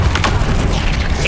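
Expelliarmus spell cast in the video game Hogwarts Legacy, a short, dense whooshing burst with a low boom underneath, steady and loud throughout.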